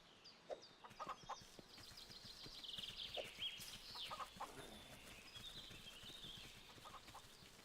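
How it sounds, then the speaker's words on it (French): Chickens cluck in short bursts in the Force of Nature video game, mixed with horse-like clip-clop and rustling farm ambience, at moderate distance with no talking. "là il y a une poule à nouveau"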